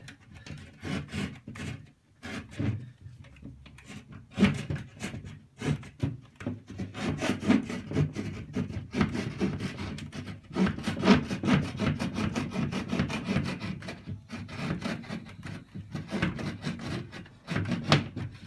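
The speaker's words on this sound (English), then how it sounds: "All I gotta do is cut this door in." A hand saw cuts a door opening into a small wooden model of the White House, with rapid back-and-forth rasping strokes that come in bursts with short pauses and build to a steady, close sawing rhythm.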